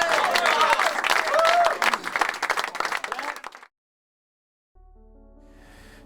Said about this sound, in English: A round of applause for Vince and Joe.